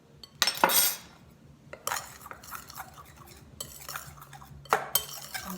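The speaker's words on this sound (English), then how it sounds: "I'm going to use the knife to cut in and keep cutting" A knife cuts cold water into shortcrust pastry dough in a bowl, making several sharp clinks and scrapes against the bowl, spaced irregularly and close, with quiet gaps between strokes.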